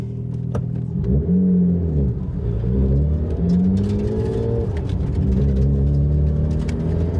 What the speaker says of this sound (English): I've taken off from a standstill like 5 or 6 times now